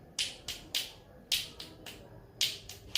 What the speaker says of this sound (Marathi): एका हाताने कशी टाळी वाजते?